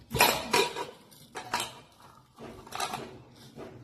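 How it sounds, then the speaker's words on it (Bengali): Pressure cooker lid being opened in a home kitchen, a few loud metallic clanks and scrapes of the lid against the pot in quick bursts, separated by short quiet gaps. "এখন প্রেসার কুকারটা খুলি"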